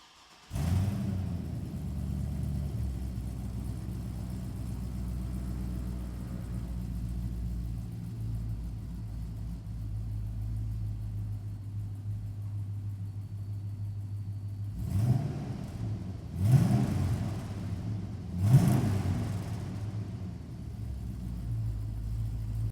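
Restomod 1967 Chevrolet C10 truck engine holds a steady low rumble at idle and while cruising, with a few louder swells near the end as it accelerates; no one speaks.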